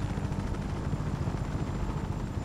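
A heavy helicopter in the Just Cause 3 video game, giving off a loud, steady rotor and engine drone that fills the whole stretch without a break.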